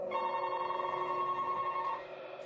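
Continuous telephone ring tone heard on an outgoing call made from home, a steady electronic trill holding for about two seconds before cutting off, clear and fairly loud with no talking over it.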